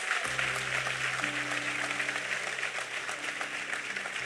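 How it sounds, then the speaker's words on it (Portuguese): A church congregation claps in a continuous, moderately distant wash of applause, with a low sustained organ or keyboard tone underneath. "Então aplauda Ele por isso aí, em nome de Jesus."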